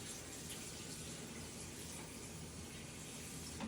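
Cooking ingredients for Jamaican chicken soup washed under running water, a steady faint rush from a tap running continuously with no voices.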